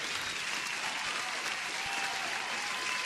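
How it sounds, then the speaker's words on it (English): Applause sound effect played during a live futures day-trading stream, a steady, bright wash of clapping and light crowd noise lasting about three seconds with no gaps. "let me give you an applause"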